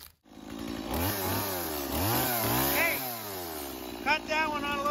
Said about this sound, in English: we're going to go ahead and fire up the chainsaws here and get to cutting.